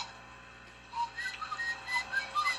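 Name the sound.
whistling imitating cartoon characters whistling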